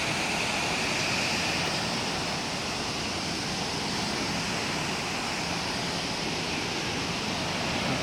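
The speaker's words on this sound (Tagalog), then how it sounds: "Napakalakas ng tubig dito." Strong rushing river water during a flood at a river in Cabuyao, Laguna, a dense steady roar of broadband turbulence, loud and continuous throughout with no voices.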